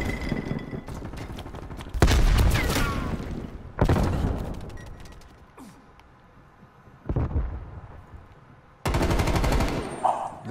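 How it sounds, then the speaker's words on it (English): Heavy automatic gunfire in a first-person shooter game comes in loud, sustained bursts separated by quieter gaps, with a few single shots and faint voices beneath. "How am I getting shot at, bro?"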